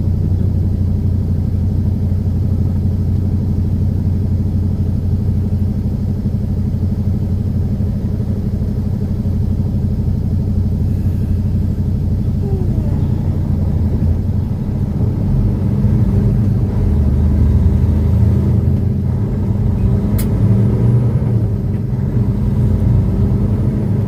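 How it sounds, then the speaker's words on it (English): Road traffic in Edmonton, Alberta, Canada: a steady, loud rumble of car engines that drones on without a break and swells slightly as vehicles pass. "oh boy, look at that traffic."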